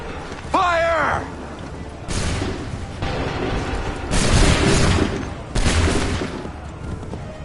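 Musket volleys crack out in Assassin's Creed III, three loud, sustained bursts of massed gunfire spaced about a second or two apart, following a brief shouted command.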